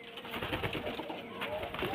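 Female pigeons coo softly and continuously at close range, a faint, murmuring burble with a few brief flutters, and a voice faintly present in the background.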